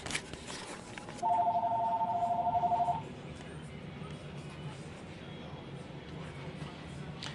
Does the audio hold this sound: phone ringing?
yes